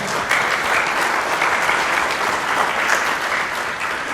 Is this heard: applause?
yes